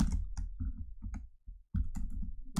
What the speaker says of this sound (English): No, actually, I'm typing Lakers roster.